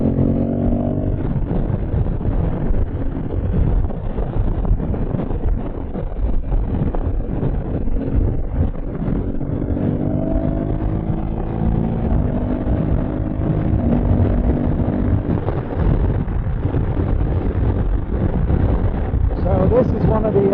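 A 2024 Honda Africa Twin base model on dual-track tyres cruising on the road at highway speed, with a steady engine drone under heavy wind rush. A rider talks over it now and then.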